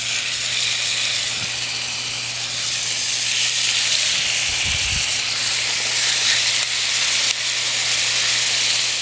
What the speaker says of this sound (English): Burgers are going right in.